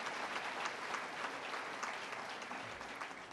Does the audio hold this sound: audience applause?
yes